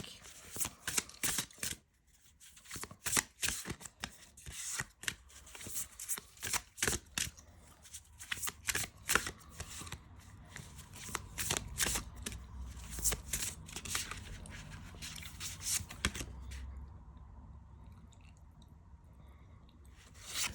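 Oracle cards are shuffled by hand in a series of soft, quick riffling and sliding bursts, close and fairly quiet, before fading into near silence at the end.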